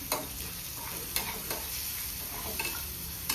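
Turmeric and a little salt being stirred into dill and fresh Bombay duck in a pan, with scraping stir strokes at irregular intervals over a low steady sizzle, close and fairly quiet with no talking.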